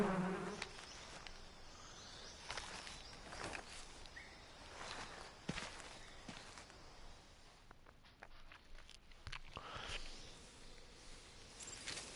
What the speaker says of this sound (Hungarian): Ott van egy darázsfészek